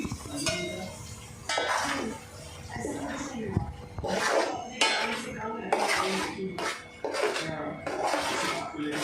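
Spice paste for matar paneer being sautéed and stirred in a pan, with metal utensils clanking and scraping against the cookware in bursts, while people talk nearby throughout.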